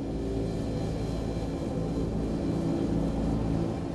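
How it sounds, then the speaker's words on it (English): A jet airliner climbing at takeoff thrust over the Bronx gives a steady, loud, broad engine roar with a low rumble, continuous throughout with no voices. "Flying at over 250 miles per hour, the plane climbs over the densely populated Bronx."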